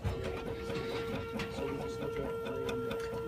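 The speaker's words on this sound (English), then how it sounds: "We're going to demonstrate the functionality of the printer now." A stereolithographic resin printer runs steadily, a constant mechanical whir with a steady tone as the laser moves back and forth to cure resin, at moderate level with no pauses.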